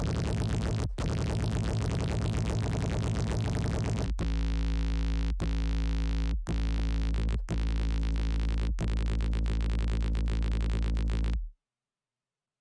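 A heavily distorted synth fills the mix with a dense, saturated wall of sound, loud and continuous, broken by a few brief dropouts before cutting off abruptly near the end.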